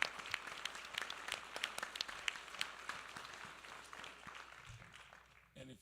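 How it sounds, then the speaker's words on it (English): Applause from the audience at a mayoral forum, faint and somewhat distant, a crowd of hands clapping with scattered sharper claps standing out over roughly five seconds. "let's give Ms. Tunvi a wonderful round of applause for the great job she did"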